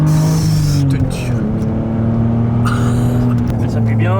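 A BMW Z roadster's engine pulls hard under acceleration, a loud, continuous rising drone heard from inside the car while people talk over it.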